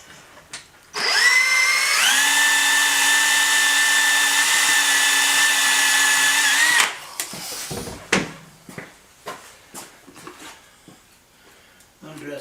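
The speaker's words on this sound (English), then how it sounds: "So, we've got our two holes drilled." A drill bores holes in a part for a 1959 BSA C15T motorcycle, a loud steady whine running about six seconds before stopping, followed by scattered clanks, handling noises and faint talk.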